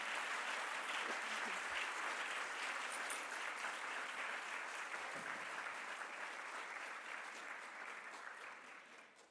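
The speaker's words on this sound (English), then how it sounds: "Please give them a round of applause." A conference audience at a genetic testing and research session applauds in a sustained round of clapping that gradually tapers off near the end.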